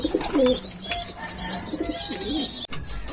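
Hungry bird chicks keep up a steady stream of high, wavering calls and soft cooing, close by, with a brief click near the end.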